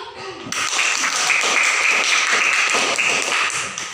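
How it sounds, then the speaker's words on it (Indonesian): Dense classroom applause from students cheering a group presentation, steady clapping starting abruptly after a brief pause and holding loud and full throughout. "Kemudian, beri aplaus dulu."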